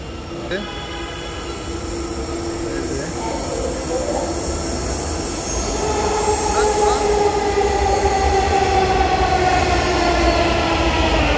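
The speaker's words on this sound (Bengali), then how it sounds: "ট্রেন আসতেছে।" A Dhaka Metro Rail train pulls into the station platform with a steady, building rumble and high, drawn-out wheel and motor tones that grow louder as it nears. Faint voices can be heard in the background.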